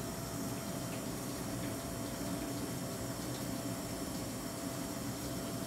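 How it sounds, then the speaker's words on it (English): A Hobart commercial dishwasher fills with water in a steady, unbroken rush of hiss and pump hum that holds at an even level throughout, with no voices. "you'll be able to hear it being filled"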